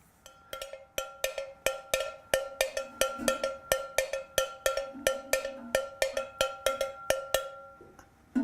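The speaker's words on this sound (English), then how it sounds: "That's the sound of another cowbell." A cowbell is struck over and over in a steady, lively rhythm, each clear metallic clang ringing briefly before the next; close and alone.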